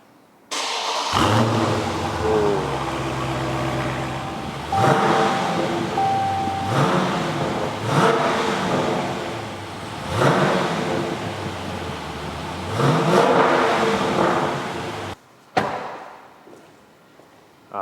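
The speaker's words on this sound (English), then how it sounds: "no review of a Challenger with a Hemi engine V8 is complete without the exhaust notes" A Dodge Challenger T/A's Hemi V8 engine remote-starts with a growl, then revs repeatedly in rising surges through a deep, rumbling exhaust, close and loud, before cutting off abruptly.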